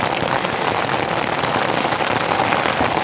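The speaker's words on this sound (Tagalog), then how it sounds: "Super lakas ng ulan." Heavy rain pours steadily on Buhawi Hill in Pio Duran, Albay, a dense, continuous hiss close by with no voices over it.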